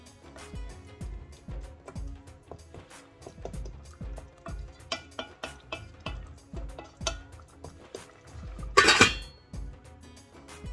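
Mutton biryani being stirred in a pot after mint and sliced pandan leaf go in, with soft irregular scrapes and metallic clinks of a spoon against the pot, and one louder clattering burst near the end.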